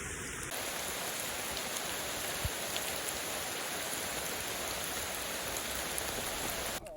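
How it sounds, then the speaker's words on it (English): Steady rain pouring onto a hiking trail during a storm, a dense even hiss of drops close by with a few louder individual splats and no voices. "I just want to give you guys an understanding of what it looks like out here with the rain"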